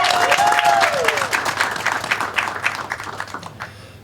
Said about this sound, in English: So big round of applause for Captain Gerba and Sergeant Richards.